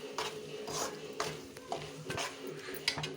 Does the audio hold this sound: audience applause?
no